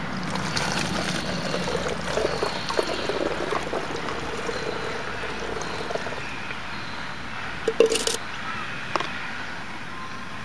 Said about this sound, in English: we're going to pour roughly about 400 mils of water